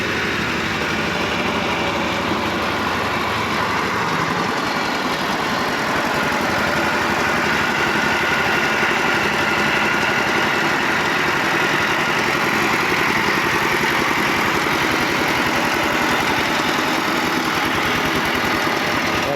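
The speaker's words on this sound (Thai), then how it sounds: "เครื่องแย่หน่อยนึง ใช้งานได้ปกตินะครับ" A small e-taen farm truck with a fan-cooled engine in rough condition, dual rear tyres and two-layer leaf springs, idles steadily and loudly at close range with a constant rough mechanical drone and rattle, no talk.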